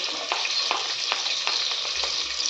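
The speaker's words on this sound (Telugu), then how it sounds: "ఇప్పుడు ఇందులో మనం ముందుగా కట్ చేసి పెట్టుకున్న ఉల్లిపాయలు, మిర్చి, క్యారెట్స్," Onions, chillies and carrots fry in oil for a paneer vegetable biryani, a close, steady hiss with a few soft scraping stirs spaced across the moment, and no voices.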